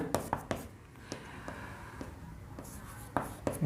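A pen or pencil writes a class 10 maths solution by hand, giving close, scratchy strokes and sharp taps in short clusters separated by quieter gaps.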